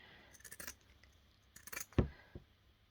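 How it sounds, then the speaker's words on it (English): Pinking shears snip across the corners of a small scrap-fabric coaster, giving a few soft crisp cuts and one sharper clack, heard close and alone. "So we're going to cut across each corner, making sure you don't cut the thread."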